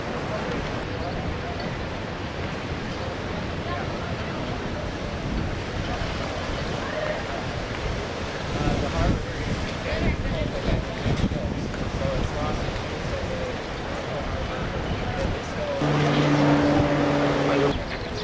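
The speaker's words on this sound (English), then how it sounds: "Tel Aviv Beach." Steady wash of waves and wind at Tel Aviv Beach, a constant broadband roar through the whole stretch, with some faint background activity and a slight swell in loudness near the end.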